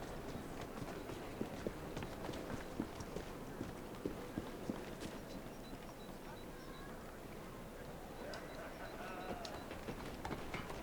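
Horse hooves clip-clop in a steady trot in the video game Assassin's Creed Syndicate, the quiet rhythmic hoofbeats sitting in a soft bed of game ambience.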